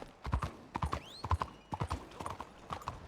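Horse hooves from Red Dead Redemption 2 clip-clop in a steady walking rhythm, close and distinct, with a brief whinny-like squeal partway through.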